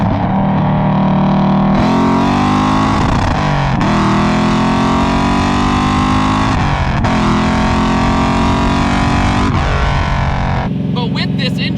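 A Mustang engine running on E85 in a 580 hp Amazon van revving hard and loud, pitch rising and falling through repeated surges, with a rough, distorted growl throughout.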